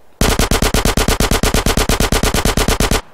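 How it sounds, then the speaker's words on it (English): Rapid automatic gunfire from a Grand Theft Auto: San Andreas firefight, a loud, close burst of about twenty-five evenly spaced shots over roughly three seconds, cutting off abruptly with no talking. "Carl Johnson, why'd you shoot him?"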